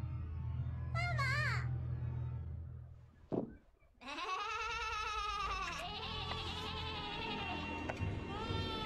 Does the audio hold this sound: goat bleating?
yes